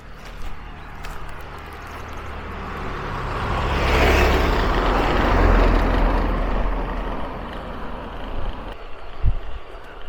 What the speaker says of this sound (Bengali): আর একটা গাড়ি আসছে